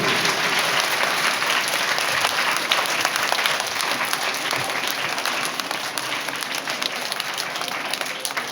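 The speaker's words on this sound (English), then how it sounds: "Let's give them a huge round of applause on this auspicious occasion." Sustained audience applause fills a school Foundation Day celebration at Egra Public School, a dense, steady wash of many hands clapping at close range with no break for the full duration.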